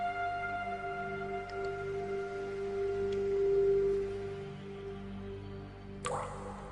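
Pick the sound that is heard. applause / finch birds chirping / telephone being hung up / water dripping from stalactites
water dripping from stalactites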